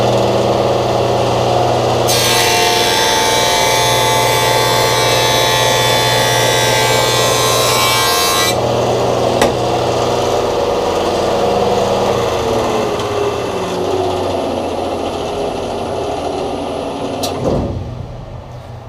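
A Grizzly G0490X spiral head parallelogram jointer whines loudly at full speed in a workshop, then is switched off and slowly winds down over many seconds, its pitch sinking as the cutterhead coasts toward a stop.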